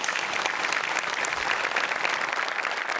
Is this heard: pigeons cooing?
no